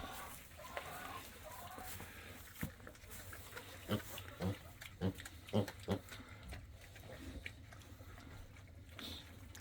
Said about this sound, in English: I'm not sure which little piglet this is.